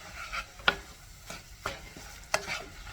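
A tofu scramble mixture is stirred in a pan, giving a few soft scraping strokes and light clinks over a faint sizzle. The sound is quiet and close, with no talk.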